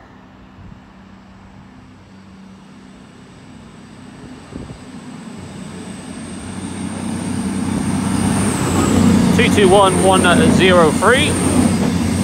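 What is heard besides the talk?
Voyager passenger train passing at Stafford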